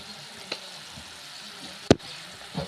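Rice goes into a hot pan for mutanjan, a soft low sizzle with light stirring scrapes and one sharp clatter near the middle.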